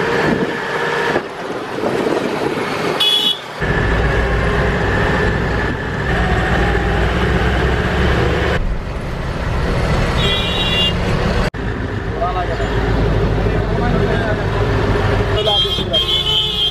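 Traffic rumble and passing vehicles heard from inside a local bus in Dhaka, Bangladesh, a steady loud engine drone with wind buffeting and occasional short horn toots, voices faintly mixed in.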